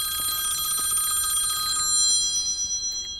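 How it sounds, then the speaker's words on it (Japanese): A telephone rings loudly inside a car set up for overnight camping, its bright electronic trill repeating steadily for about two seconds before stopping, leaving only a quiet interior with no talk. "電話が来ちゃった。"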